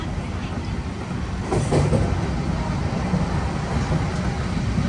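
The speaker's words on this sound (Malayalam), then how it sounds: "ട്രെയിൻ ഇപ്പോഴാണെന്ന് സ്പീഡ് എടുത്ത് തുടങ്ങുന്നത്." The Jhelum Express, a sleeper-class train on a winter run, picks up speed toward about 120 km/h, filling the coach with a steady, dense rumble and rattle that continues without a break.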